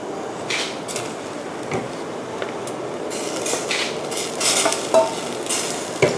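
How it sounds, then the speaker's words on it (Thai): Pineapple pieces tumble into a Thai red curry with mussels in a pan, a steady low bubbling and sizzle with scattered clinks and stirring scrapes, close by, rising briefly toward the end. "เสร็จแล้วนะคะเราก็จะใส่สับปะรดลงไปค่ะ"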